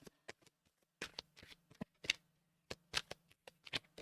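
Oracle cards being shuffled up close in a quiet room, a series of quick papery slaps and riffles in uneven bursts with short pauses between them, no speech.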